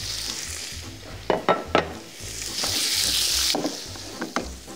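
Sliced pork fillet and garlic frying in oil in a pan, a steady sizzle broken by a few sharp clinks of a utensil against the pan, close and fairly loud.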